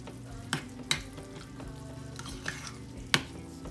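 Slow cooker dinner ingredients being stirred together with a spoon, a few distinct scraping knocks against the bowl standing out over a low steady rustle, with no voices.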